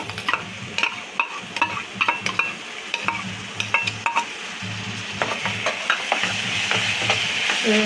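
Spice paste fries in a pan for a Punjabi-style aloo gobi, giving a continuous close sizzle broken by repeated scraping and clinking strokes of a spoon stirring against the pan, with no voices.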